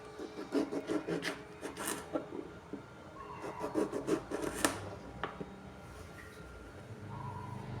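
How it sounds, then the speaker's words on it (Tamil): Knife slicing bottle gourd thinly for fritters, close up: repeated bursts of scraping, rasping cuts in quick rhythmic clusters, separated by brief pauses and a few sharp taps on the board. "இந்த மாதிரி நான் ஸ்லைசஸாக கட் பண்ணிக்கிறேன்"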